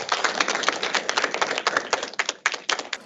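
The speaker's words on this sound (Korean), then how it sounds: "유진님께 다시 한번 큰 박수 부탁드립니다" An audience at a Girls in Tech and Microsoft career talk applauds speaker Yujin, giving a dense, fast patter of many hands clapping together for about three seconds, moderately loud and steady before thinning slightly at the end.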